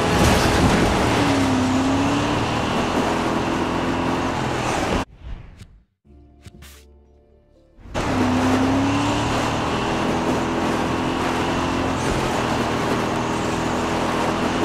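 A car being driven in the video game Far Cry 6 gives a steady, loud engine and road drone that cuts out to near silence for about three seconds midway, then resumes just as steady.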